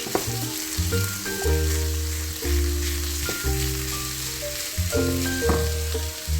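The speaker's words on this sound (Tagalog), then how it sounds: "Lutuin muna natin saglit yung ating cabbage." Cabbage fries in a pan with a steady sizzle, punctuated by repeated scraping and stirring clatter from a utensil, close up and without any talking.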